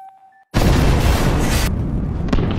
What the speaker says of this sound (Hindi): उधर जो भी धमाका कर देता है।